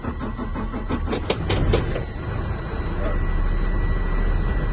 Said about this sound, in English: I'm going to start the truck.